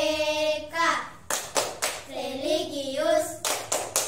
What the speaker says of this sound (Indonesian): sekarang kita tepuk dan salam PPK dulu ya